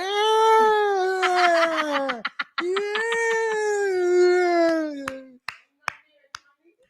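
A person vocally imitates a stray cat moaning outside a house, two long drawn-out yowling wails, followed by a few sharp snaps or claps.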